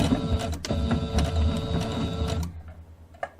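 Sewing machine stitching down a quilted pillow wall hanging, a fast steady mechanical whir running close and loud, then stopping abruptly with a small clack afterward.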